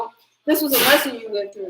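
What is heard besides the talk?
sneeze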